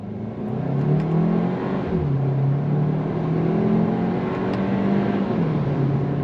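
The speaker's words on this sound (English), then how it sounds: "It's a 4-cylinder turbocharged engine." A Hyundai Kona N-Line's turbocharged four-cylinder pulls hard from a standstill in first gear, heard from inside the cabin as a loud, steady engine drone that rises in pitch, drops briefly at a shift, then climbs again.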